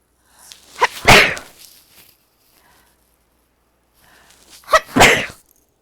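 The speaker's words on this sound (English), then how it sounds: "I want to sneeze." Two sharp, loud sneezes separated by a few seconds of quiet, each with a brief inhale before the burst.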